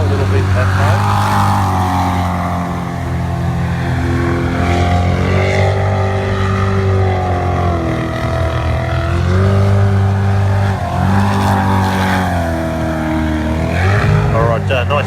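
Jet sprint boats racing at a jetsprint event in Wanganui, New Zealand, engines roaring loud and continuous as they swing around a hairpin, pitch dipping and climbing with throttle, under steady commentary.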